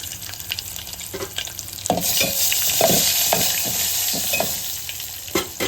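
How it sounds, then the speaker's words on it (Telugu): Mustard seeds and garlic fry in hot oil with curry leaves, dried red chillies and cumin for a tempering, a steady close sizzle broken by repeated sharp crackles and stirring clatters. "ఇప్పుడు ఆవాలు వేస్తున్నాయి కదా ఎల్లిపాయ వేసాను"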